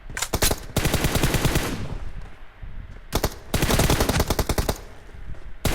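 Rapid automatic gunfire from a shooter video game, long bursts of fast shots with a short break between volleys, loud and dense.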